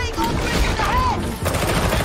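Gunfire in the video game Warhammer 40,000: Darktide, a loud continuous burst of rapid shots filling the whole moment, with faint in-game sounds around it.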